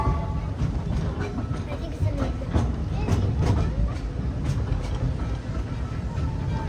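A Disneyland Railroad train at Disneyland rolls along its rails: a steady, close, low rumble with faint rhythmic clacks throughout and some indistinct voice underneath.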